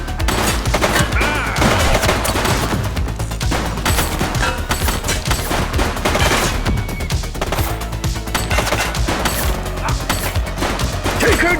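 Gunfire in the video game The Precinct, loud and continuous bursts of rapid shots layered with game sound over the whole stretch.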